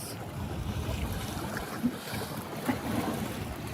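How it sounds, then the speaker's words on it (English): Ocean water and boat noise on a sunny holiday weekend, a faint steady wash with low engine-like rumble and light wind buffeting, a couple of soft knocks, heard from nearby. "maybe you can hear the waves"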